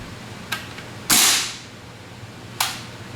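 A WE M16 gas blowback airsoft rifle fitted with an L85 steel bolt fires a few sharp, close, single cracks with a short hiss of gas, spaced unevenly over a quiet background.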